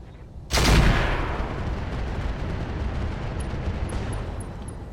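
A loud gunshot-like blast in a naval combat video game bursts out suddenly, followed by a long roaring rumble of explosions and fire that fades only slightly over several seconds, with no voices.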